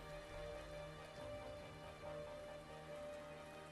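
Steady rain falling in the video game Arknights, a continuous even hiss of drops on surfaces that stays fairly quiet and unbroken throughout, with no voices.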